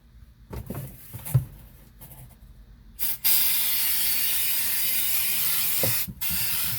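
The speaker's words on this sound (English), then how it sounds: "I started spraying and then all of a sudden the can stopped spraying" An aerosol spray paint can, painting a rusted 1989 Chevy truck floorboard, hisses in a long steady spray after a few quiet clicks and rattles, cutting off briefly near the end as the can stops before spraying again.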